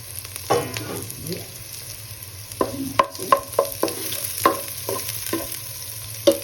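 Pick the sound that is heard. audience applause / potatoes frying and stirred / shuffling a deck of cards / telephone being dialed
potatoes frying and stirred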